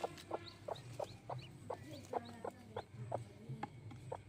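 A hen clucks in a steady series of short, soft calls, roughly two per second, fairly close with faint background noise.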